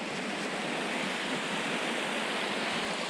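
Brontë Falls, a small local waterfall near Haworth on the moors, giving a steady, even rush of falling water, fairly soft and unbroken, with no voices.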